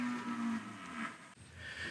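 Cattle moo nearby, one long low lowing call followed by a shorter one after a brief pause, fairly clear with no talking.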